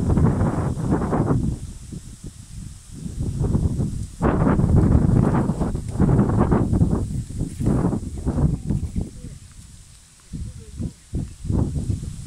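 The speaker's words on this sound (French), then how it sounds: "Le vent est trop fort." Strong wind by the Penzé river buffets the microphone in loud, gusty rumbling surges, with fluttering and rustling that rise and fall and ease off briefly near the end.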